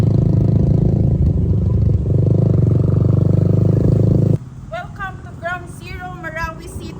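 Motorcycles and other vehicles pass along a street at Ground Zero in Marawi City, a loud engine drone for the first four seconds, then quieter traffic as a person starts talking.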